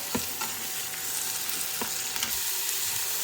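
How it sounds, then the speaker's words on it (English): Leeks sizzle steadily in oil inside a Ninja Foodi multicooker, a constant close frying hiss broken by several sharp scraping taps of a stirring utensil. "We're going to saute these leeks for about 5 minutes or so."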